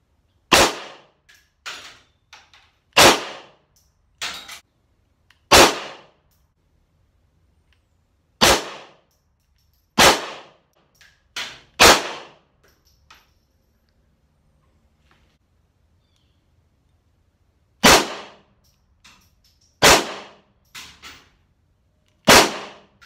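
Gunshots at an outdoor shooting range, fired during tactical flashlight practice: about ten sharp, loud single reports at irregular intervals, some in quick pairs, each trailing a brief echo, with quiet gaps between.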